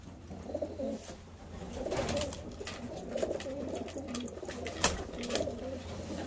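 Racing pigeons coo in a loft, soft overlapping throaty coos and rustling throughout, close and moderately loud, with occasional sharp knocks.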